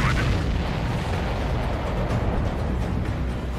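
A supply ship blows up in the video game Ace Combat 7, a dense, heavy roaring rumble that rolls on without a break, loud and sustained throughout.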